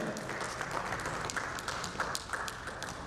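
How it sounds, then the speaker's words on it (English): Audience applause follows a panel session at an insurtech conference, a continuous moderate wash of many hands clapping with a few sharper claps standing out, heard from some distance. "A big round of applause to Sudeep for his wonderful contribution in"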